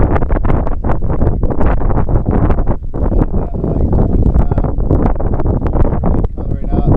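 A strong southeasterly wind buffets the microphone at a lake, loud gusty rumbling and crackling throughout, with rustling bursts.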